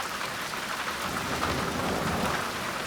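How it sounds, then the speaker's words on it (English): Steady heavy rain of a February thunderstorm, with thunder rumbling low underneath throughout, close and continuous with no voices. "February Thunderstorm."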